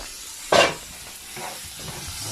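Liver and onions cook in a pan for Thanksgiving stuffing, a short loud burst of hiss near the start easing into a soft, faint sizzle with a light stir, nobody speaking.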